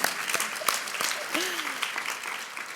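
Dense applause from an audience at an Empire Club speech by the Ontario Premier, many hands clapping steadily at moderate volume for the whole stretch, with a voice briefly audible underneath.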